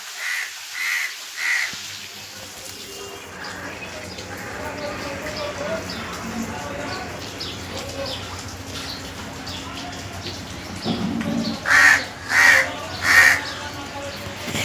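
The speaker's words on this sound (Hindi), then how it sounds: "और इसको देखो, इसको पकड़ने का है कौवा।" A crow caws three times in a clear, fairly close sequence, heard outdoors where a woman is preparing beef kofta, with a steady background of ambient noise and some earlier calls at the start.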